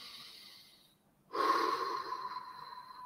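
A person breathing in and out at a normal resting pace: after a near-silent pause comes one sudden, close, breathy rush of air that holds steady to the end, with no talking.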